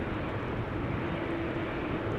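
An ITA Airways airliner approaches at Amsterdam Schiphol Airport with a steady broadband jet roar, fairly loud and unbroken, and no voices over it.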